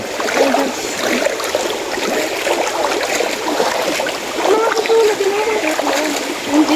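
Steady rushing and splashing of flowing river water near a waterfall fills the scene, continuous and fairly close, with faint voices mixed into the background.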